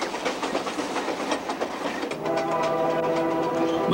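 A diesel locomotive train rumbles and clatters along a rugged rock-cut line across Canada, steady rolling noise joined midway by a sustained tonal horn-like drone.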